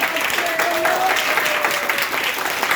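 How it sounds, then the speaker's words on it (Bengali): Children and guests clap together at a winter clothes distribution for schoolchildren, a close, lively burst of applause with voices speaking over it. "তো সবাই একটা হাততালি"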